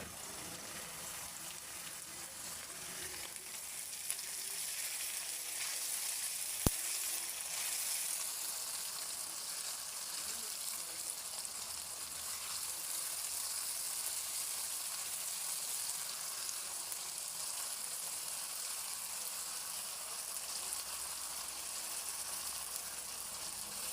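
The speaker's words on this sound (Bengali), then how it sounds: "এখন আমি এর ভিতরে এই মাংসগুলো দিয়ে দিব। মাংসগুলো ভালো করে ভাজা লাগবে এখন।" Meat fries in a pan with a steady, moderate sizzle and crackle that runs on without break, close by, with one brief sharp knock partway through.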